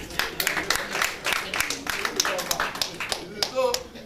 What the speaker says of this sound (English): So let's clap for him again.